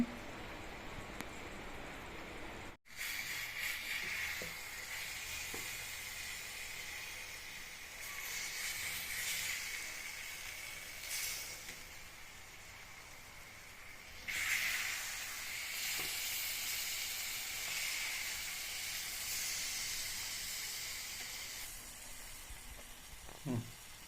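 Egg curry cooks in a pan with a continuous soft sizzle and hiss, bubbling gently on the heat for a long stretch, with a few light clinks and no clear talk.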